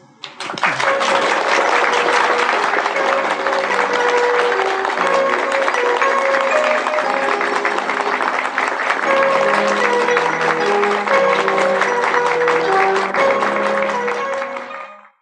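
An audience breaks into sustained applause at the close of a lecture, loud dense clapping lasting about fifteen seconds with melodic music playing underneath before it fades out.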